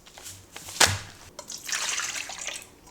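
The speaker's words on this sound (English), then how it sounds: "Pour 300 mils of milk, add the Angel Delight, mix and whisk" Milk being poured into a bowl for an Angel Delight instant dessert, a short, steady liquid splash and trickle close by, with a brief knock as the pour starts and no voices.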